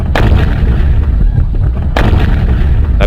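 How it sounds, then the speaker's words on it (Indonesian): Two loud, heavy booms from an Adobe Flash shooting game, one near the start and another about two seconds later, each a sharp blast with a rumbling tail, with no talk over them. "Jadi dia akan meledak gitu guys."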